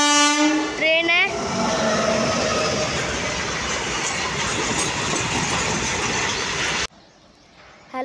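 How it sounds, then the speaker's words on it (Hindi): A passing train sounds its horn loudly at the start, then its cars rumble and clatter by close and steady for several seconds before the noise cuts off abruptly. "देखिए गाइस ट्रेन है"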